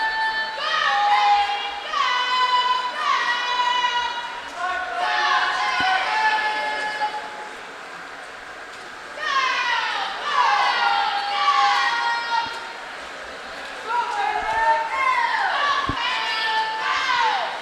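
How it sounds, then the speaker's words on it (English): Teammates at a boys' high school swim and diving meet cheer on swimmers with shouts and whoops that echo around an indoor pool, coming in several loud waves of overlapping voices with brief lulls between. "It's great to hear teammates cheering them on."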